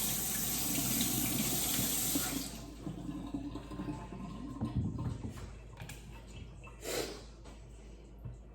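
Running tap water pours steadily over potatoes being rinsed in a sink, a broad rushing splash that stops partway through, leaving quieter handling clatter and one brief splash later.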